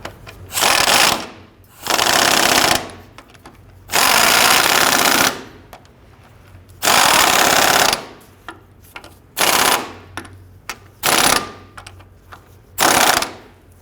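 A power tool snugs down bolts on a 2006-2012 Toyota RAV4 front left CV axle, firing in loud, rapid hammering bursts of about a second each, separated by short pauses, with several shorter bursts toward the end.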